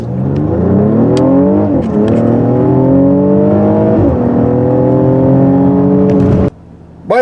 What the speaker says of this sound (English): Let's put it in the sport mode and do a 0 to 60 run.